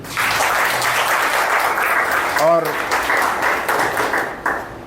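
Audience applause at a motivational talk to students, a steady broadband patter lasting the whole stretch, with a voice speaking over it.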